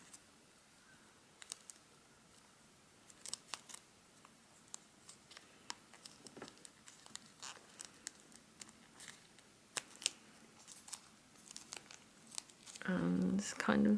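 Thin paper being folded into an easy origami fish, with soft crinkles, creases and light taps scattered close by over a quiet room, ending in a louder rustling burst.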